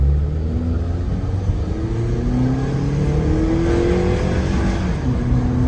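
A 2012 Honda Accord EX-L with the 2.4-litre four-cylinder engine revs during a test drive, giving a steady, smooth, loud hum with rising and falling engine tones and no speech.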